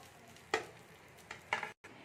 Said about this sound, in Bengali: এটা হালকা হালকা একটু ভেজে নেবো লাল লাল করে